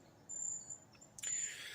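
Buzzards call at dawn near a woodland bushcraft camp, with thin, high drawn-out cries heard faint and distant, the second coming in a bit stronger after a soft rustle.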